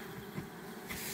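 Honeybees buzzing inside a three-frame beehive, a close, steady droning hum that swells slightly toward the end.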